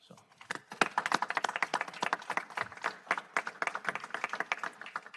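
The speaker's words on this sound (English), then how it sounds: "if I may ask for a round of applause" Applause from the audience at a city council meeting, dense steady clapping of a modest crowd for a few seconds, moderately loud and alone without talk.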